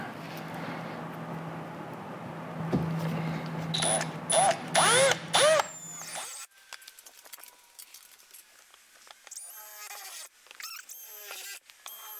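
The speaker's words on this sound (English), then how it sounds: "drill a bigger hole to get my blade started" A power drill whirs in bursts, its pitch rising and falling as it bites into metal during a camping air conditioner install, followed by quieter clicks and metallic scraping.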